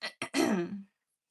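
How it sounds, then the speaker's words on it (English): Two short, sharp coughs followed by a longer, throaty rasping cough, close and alone, then silence. "They're both coughing."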